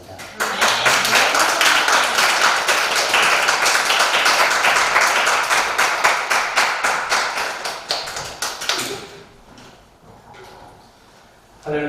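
A church congregation breaks into loud, sustained applause with a brisk, rhythmic beat that tapers off after about nine seconds, leaving a quiet room before a faint new sound starts.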